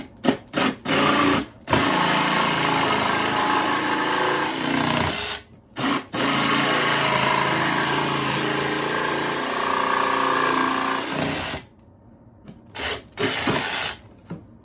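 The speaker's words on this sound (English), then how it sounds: "Big enough to use the jigsaw" A jigsaw cuts a speaker hole in the wooden cabinet of a tweed ukulele amplifier being modified, running in loud sustained buzzing bursts close up, with brief pauses between cuts and short stop-start blips near the end.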